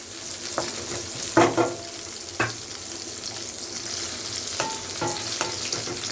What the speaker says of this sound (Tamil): வெங்காயம் வந்து கொஞ்சம் வதங்கட்டும்